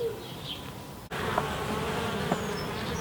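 Honey bees buzz around a beehive outdoors, a soft continuous hum with individual insects droning past near and far, and a brief knock partway through.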